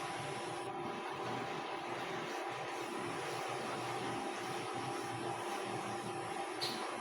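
An induction cooker heating up, giving a steady, even fan-like hum with faint tonal whine that holds unchanged throughout, close and alone.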